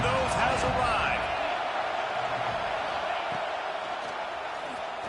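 Stadium crowd at a college football playoff game, a dense, loud roar of cheering that holds steady throughout.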